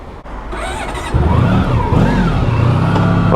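A Honda Pan European ST1100 motorcycle engine cranks briefly, then catches and settles into a loud, steady running note, heard up close with no talking.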